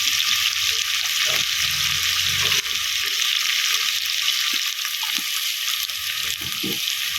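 Onions sautéing in a pan with salt and turmeric while a beef bones dish is prepared, a steady close sizzle of frying with occasional stirring scrapes, continuous and fairly loud.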